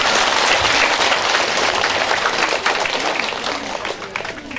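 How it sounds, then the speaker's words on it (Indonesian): A church congregation at a priestly ordination thanksgiving Mass bursts into dense, steady applause, many hands clapping together close by and gradually easing off toward the end. "Kita tepuk tangan dulu."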